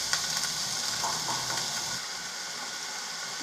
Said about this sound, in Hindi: अब हम इसमें डालेंगे प्याज कटा हुआ और इसे तब तक भूनेंगे जब तक ये लाइट ब्राउन कलर में